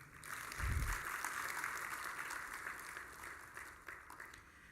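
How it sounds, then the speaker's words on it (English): An audience at the AfCFTA Digital Trade Forum 2025 plenary session claps for itself. The applause is a steady, faint, distant wash, with one brief low thump near the start. "Could we clap for ourselves for being here?"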